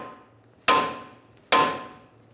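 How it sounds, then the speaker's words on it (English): Two loud, ringing hammer strikes on a steel steering knuckle during a front strut replacement on a 2000-2007 Ford Taurus, spaced under a second apart, each decaying quickly, close up and alone. "now you want to whack it right here"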